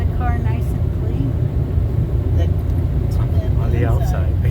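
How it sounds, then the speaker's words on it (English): An automatic car wash works over a car, a steady heavy rumble and whoosh heard from inside the vehicle as people talk over it. "It's washing the car, baby."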